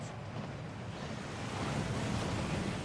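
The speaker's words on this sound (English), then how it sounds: "That waterfall washes away all enchantments." Steady rushing roar of a waterfall in the video game Hogwarts Legacy, a broad continuous wash of falling water that grows slightly louder toward the end, with no voices.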